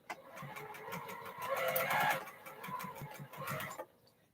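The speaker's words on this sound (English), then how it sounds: "I'm going to go on and do my stitching." A sewing machine runs a 1/4 inch seam on a quilt block for a cathedral window quilt, a quiet rapid mechanical chatter that speeds up and slows, then stops.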